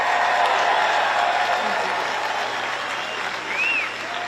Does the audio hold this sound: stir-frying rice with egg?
no